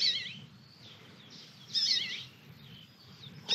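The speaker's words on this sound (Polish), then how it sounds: "Słyszycie tego ptaszka?" Bird calls outdoors, bright high chirping phrases in a few bursts with gaps between, over a low steady background rumble.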